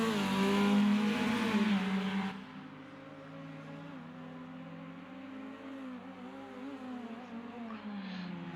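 Dallara 2009 F3 race cars at the Adelaide street circuit in a racing video game, a loud whining engine note that drops off after a couple of seconds, then a steadier, quieter engine drone with shifting pitch under commentary.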